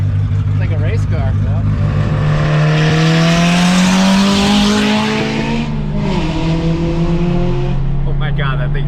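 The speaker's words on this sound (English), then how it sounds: "This thing sounds crazy. It's like a race car." A Toyota Trueno's engine revs hard and loud like a race car, a sustained rising roar with a shift of pitch partway through, close by, while people talk excitedly over it.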